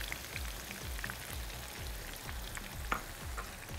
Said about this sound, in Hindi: अनियन के थिन स्लाइसेस जो है वो ऑयल में ऐड करके